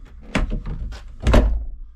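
A Ford Transit Custom camper van door shuts with a couple of solid thunks, the loudest slam near the middle, up close, followed by brief rattling and a fading low rumble, with no talking.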